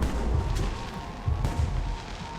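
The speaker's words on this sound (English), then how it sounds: "Watch the fireworks." Fireworks explosions in the Alpha Protocol spy action video game. A continuous rumble carries dull, booming blasts and crackles, heavy and muffled, with no talking.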